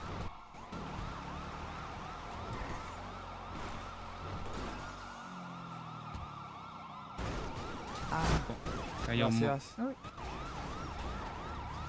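Police car sirens wail steadily throughout a video game chase, with several patrol cars in pursuit. Engine and impact noises rise near the end, and a voice briefly exclaims.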